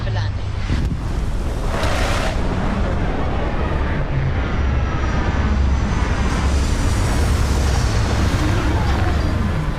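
Spaceship touching down in the Starfield video game, a steady loud roar of engine thrust and rushing wind noise that fills the whole clip, with a brief surge near the start.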